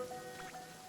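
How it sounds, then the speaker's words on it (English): Rain in the video game Genshin Impact, a faint, steady patter of drops on surfaces lasting a brief moment, with a soft tonal hum beneath it. "If this rain keeps up, my fur will be dripping wet."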